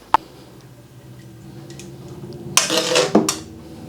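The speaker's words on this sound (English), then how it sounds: "In we go. Stir it in." A spatula clatters and scrapes through crispy noodles with king prawns as spring onion greens are stirred in, beginning with one sharp knock and moving to a busy, close scraping burst near the end.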